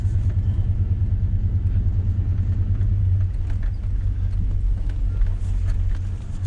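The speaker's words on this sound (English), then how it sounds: "I'm still gonna keep it on 4-wheel drive, low" Vehicle engine pulling in second gear with four-wheel drive low engaged, a steady close low rumble running throughout without a break.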